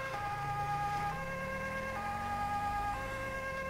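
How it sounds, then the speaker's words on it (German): A police siren in Grand Theft Auto 5 wails continuously in a steady repeating tone pattern, loud and close, with a vehicle engine rising in pitch underneath. "Ich habe bei dem DLC-Pack die Sirene jetzt mal nicht ausgetauscht."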